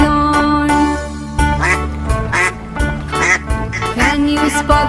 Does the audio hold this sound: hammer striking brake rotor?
no